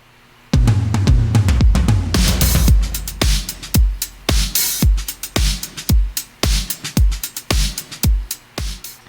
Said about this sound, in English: here's what the percussion sounds like.